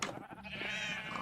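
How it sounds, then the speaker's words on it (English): Sheep bleating in a video game, one short wavering bleat that stays steady and close for about a second with no talking over it. "You can name one of my sheep."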